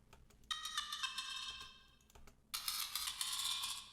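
Bell instrument in an Ableton Live sampler with its vocoder switched off: bright metallic tones in two sustained bursts, the second brighter and more shimmering, with small clicks in the quiet gaps.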